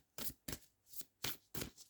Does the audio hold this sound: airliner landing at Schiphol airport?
no